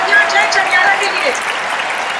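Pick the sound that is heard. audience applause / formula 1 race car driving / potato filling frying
audience applause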